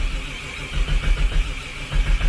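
A car engine cranks and struggles to catch on a cold morning, with uneven low rumbling bursts that sputter and surge close by, never settling into a smooth idle.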